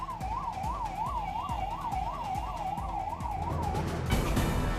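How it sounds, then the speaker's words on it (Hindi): Civil defence siren sounding before a mock drill in Sant Kabir Nagar district: a loud, steady rising-and-falling wail cycling evenly over traffic rumble, then giving way to louder noise at the end. "संत कबीर नगर जिले में मॉक ड्रिल से पहले बजा सायरन।"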